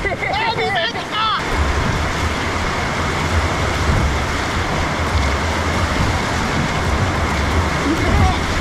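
Wave-pool surf crashes and churns in a loud, continuous wash of water noise, with excited voices briefly heard at the start.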